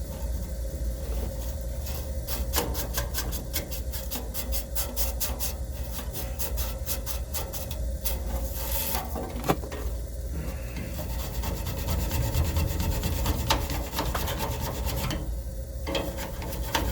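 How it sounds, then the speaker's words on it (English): A copper refrigerant pipe fitting on a walk-in cooler line gets sanded at the joint before brazing, a close, steady rasping rub in quick repeated strokes over a low background rumble. "I'm going to sand the whole fitting because the braze joint is going to encompass everything."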